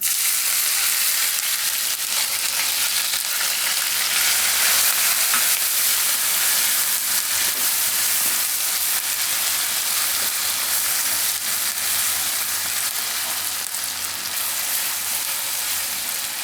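Ginger, chili and garlic fry in a hot pan for a dahi paneer curry, producing a steady, loud, close sizzle that holds unbroken throughout, with no talking.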